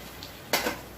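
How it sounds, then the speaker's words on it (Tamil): A handful of sliced large onions dropped into a hot pan for chicken biryani, a short burst of sizzling hiss after a light metallic clink, fading quickly in a quiet kitchen. "இப்போ வந்து இதில் வெங்காயம் சேர்த்துக்கலாம்"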